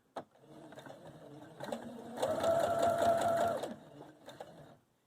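A sewing machine stitches fabric forward for a scrunchie, a steady mechanical whir that rises in the middle for about a second and a half, with softer stop-start motor hums before and after.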